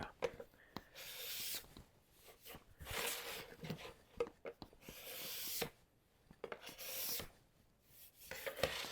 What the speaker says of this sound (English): Card scraper.